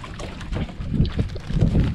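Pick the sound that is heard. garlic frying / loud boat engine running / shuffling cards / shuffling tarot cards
loud boat engine running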